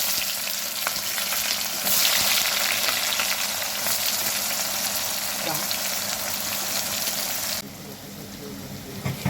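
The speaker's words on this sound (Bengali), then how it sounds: "এর মধ্যে আমি গোটা গরম মশলা আর তেজপাতা ফোড়ন দেব আর দেবো টুকরো করা পেঁয়াজ" Onion pieces fry with whole spices and bay leaves in hot oil and ghee, giving a steady, full sizzle with faint stirring scrapes that stays even for several seconds before dropping to a quieter hiss near the end.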